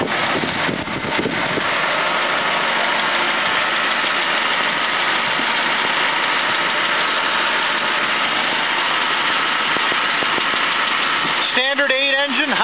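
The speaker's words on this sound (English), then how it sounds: "Standard 8 engine, 120 horsepower." A 1940 Packard 120 with a 120-horsepower straight-eight engine idles steadily at close range, a continuous even rumble that holds throughout, with faint voices or other sounds near the end.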